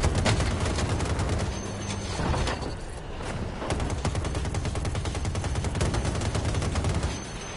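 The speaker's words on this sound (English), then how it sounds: "Shots fired!" Automatic weapons chatter rapidly in a Battlefield 2042 Conquest battle, dense overlapping bursts of gunfire that stay loud and close throughout, with a few heavier thuds mixed in.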